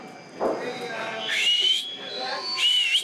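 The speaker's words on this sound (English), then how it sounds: "I learned how to whistle." Someone whistles a few thin, wavering high notes, near and moderately loud, between breathy attempts, with faint talk around them.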